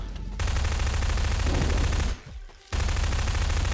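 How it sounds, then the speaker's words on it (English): Sustained rapid gunfire from a weapon in the video game Garry's Mod, loud and continuous, with a brief drop in the middle before the shooting resumes. "You're actually shooting bullets at him."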